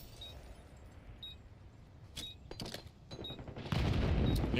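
Gunfire from a Call of Duty League match gunfight, heard as scattered shots and short bursts that build into a louder, denser volley near the end.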